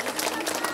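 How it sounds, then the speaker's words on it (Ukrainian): An audience at an Independence Day concert claps in a brief, dense burst of applause that fills the moment with even, crowd-wide patter. "Молодець! Аплодуємо!"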